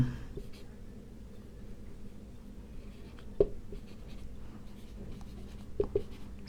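Chalk writing a sentence on a classroom board by a teacher, faint scratchy strokes with a few sharper taps, low and steady under room murmur with no clear speech.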